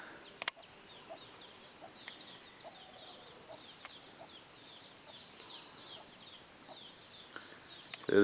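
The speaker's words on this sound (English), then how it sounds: "this is one of my favorite parts of raising chickens" Soft clucking from chickens at moderate distance, with a few sharp brief clicks and light rustling over a quiet background.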